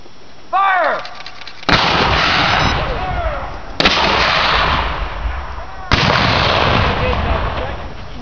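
Civil War cannons boom at a reenactment encampment, three loud blasts spaced a couple of seconds apart, each followed by a long rumbling echo, with a brief shouted voice just before the first.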